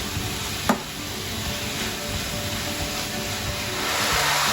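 Beef samosa filling, seasoned with salt, simmering in a pan over raised heat: a steady, even sizzling hiss runs throughout, broken by a single brief clink early on and growing slightly louder toward the end.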